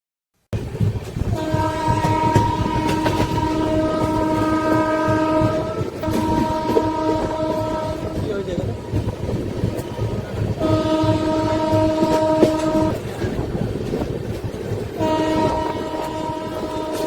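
The 22387 Black Diamond Express runs steadily, heard from inside a general coach, with continuous loud rumble and wheel noise throughout and a sustained multi-tone horn sounding repeatedly in long blasts.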